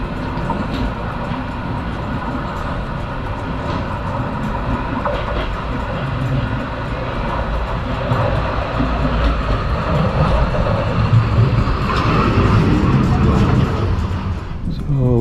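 The Bergen funicular car rumbles steadily up its track as the cable hauls it, a continuous rolling, rattling drone with faint clicks, close and fairly loud throughout.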